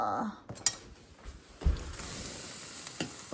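Someone rummages in a home kitchen for a spoon, producing scattered close metallic clinks and clatters of cutlery and utensils with a rustling pause between them.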